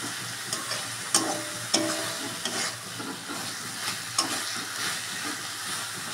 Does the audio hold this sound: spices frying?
yes